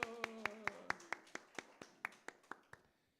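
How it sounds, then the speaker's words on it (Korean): Rhythmic applause at a church service: about a dozen sharp hand claps in a steady, slightly quickening beat, loud and close, fading out at the end with no talk over them. "박수."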